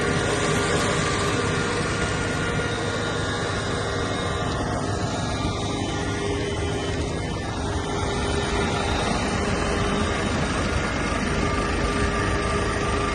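A powerful tractor works a wheat field at night sowing Pioneer 1844 maize, giving a constant loud broadband engine roar and mechanical rumble that holds steady throughout, with no talking.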